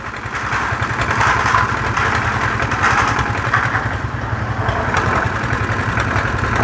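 A tractor engine runs steadily at a roadside construction site where road shoulders are being built, with a trolley attached nearby; a continuous loud, rough idling drone with a pulsing low throb, no voices.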